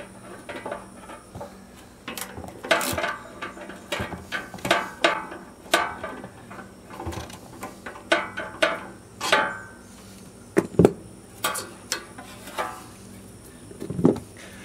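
A ratchet wrench loosening the carburetor bolts on a Yardman garden tiller gives short bursts of rapid clicking and metallic taps, close by, repeating in uneven spurts.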